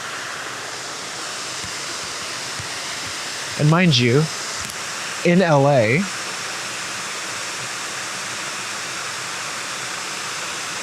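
A steady, loud roar of rushing water from a waterfall right nearby fills the scene, while a person speaks briefly over it.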